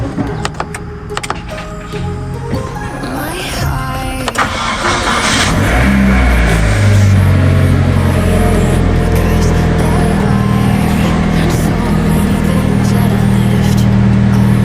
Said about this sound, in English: برای استارت ماشین یا علی